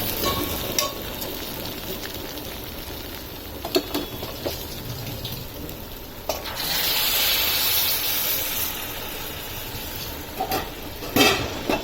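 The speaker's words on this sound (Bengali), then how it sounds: "তাতে গরম জল দিয়ে দিলাম" Hot water poured into a pan of frying potatoes and pointed gourd for a vegetarian curry, a gushing hiss rising midway over a background of steady sizzling and occasional utensil clinks.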